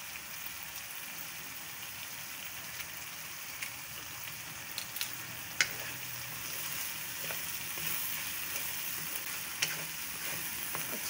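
Spice masala with green chilies frying in a pan, a faint, steady crackling sizzle with occasional small pops and light utensil taps.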